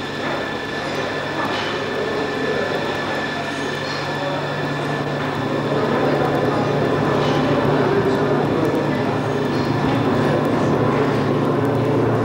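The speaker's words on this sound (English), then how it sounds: "My love goes up in the plane now." A jet airliner at an airport holds a steady, loud engine roar with a constant low hum, growing slightly stronger halfway through and continuing without a break.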